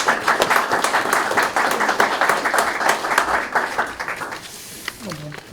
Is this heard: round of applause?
yes